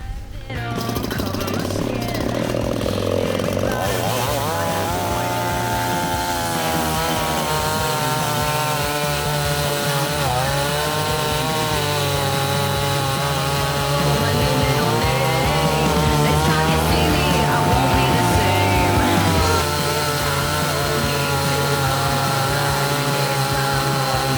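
A DWT BKS45-18 petrol chainsaw roars continuously and loudly, its pitch shifting slightly as it bites through wood while cutting firewood, running without pause throughout.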